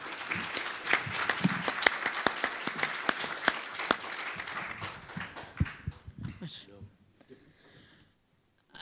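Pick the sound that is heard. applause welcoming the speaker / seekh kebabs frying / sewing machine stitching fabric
applause welcoming the speaker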